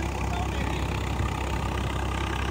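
A Swaraj 855 50 HP tractor at about 1400 RPM in low second gear, pulling a 9-foot rotavator with the lever fully down, drones in a steady, dense low rumble close by, with no talk.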